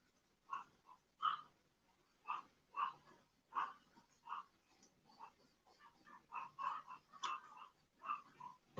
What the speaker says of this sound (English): My dog's going insane.